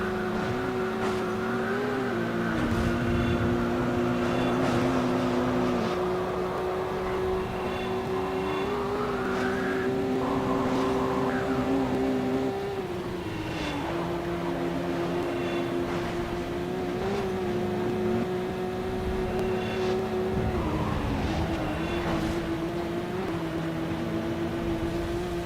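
Race car engines from the video game Midnight Club 2 drone steadily throughout, their pitch sliding up and down with gear shifts and acceleration in a continuous, moderately loud game soundtrack with no talk.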